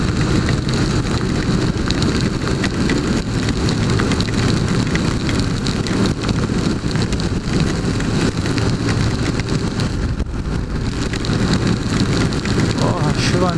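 Steady rain pours down on a flooded street and drums on surfaces, a dense, unbroken hiss throughout, with faint voices mixed into the downpour.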